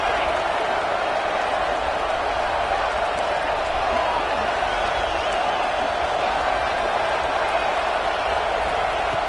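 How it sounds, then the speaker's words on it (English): Crowd at a college football game between Washington State and Clemson roaring on third down, a dense, steady wall of cheering and noise that holds at the same level throughout with no clear breaks. "3rd down, and the crowd really getting into it."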